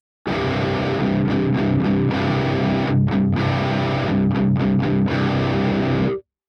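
Electric guitar driven through a Boss DS-1 distortion pedal plays a dense, loud run of distorted chords and riffs for several seconds, with brief choppy stops between phrases and no voices.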